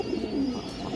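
Pigeons at a pigeon sale coo in a low, steady murmur, one drawn-out call standing out near the middle of this brief moment.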